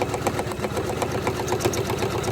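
A Janome 500e embroidery machine stitching a hat runs with a rapid, even mechanical chatter and a steady motor hum throughout, close and moderately loud, with no voices.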